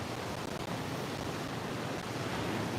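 Steady, loud wind gusting across a beach, a dense continuous roar blending with surf, buffeting close to the microphone with no pause throughout.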